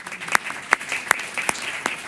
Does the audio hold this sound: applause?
yes